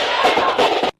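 Angry protest crowd outside Roblox HQ, a loud continuous roar of many voices with surging peaks for about a second before cutting off abruptly into silence.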